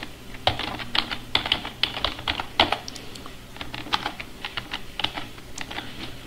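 Quiet, close keystrokes on a computer keyboard as a password is typed, coming in irregular bursts of clicks with brief pauses between them.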